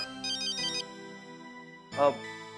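A melodic electronic ringtone plays a short tune, pauses, then sounds again briefly; close and clear with little else around it.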